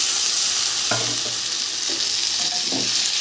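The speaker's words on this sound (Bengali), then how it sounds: "ভালো করে কষে নেব মশলাটা" A masala paste of ground spices, tomato and green chilli fries in a pan with a dense, loud sizzle, while a few soft scraping stirs sound over it in a short burst.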